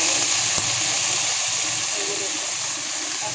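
Fried spices hit hot oil in a pan with a sudden sizzle, a brief sharp burst followed by a steady hissing crackle that fades slightly toward the end.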